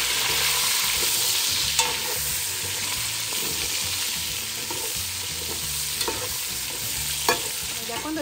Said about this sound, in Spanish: aquí vamos a freír la cebolla junto con los chiles güeros